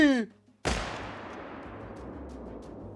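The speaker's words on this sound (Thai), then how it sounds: "เสียงปืนลั่นขึ้นอีกครั้งหนึ่ง" A single loud gunshot cracks out after a brief hush, followed by a long rumbling echo that slowly fades.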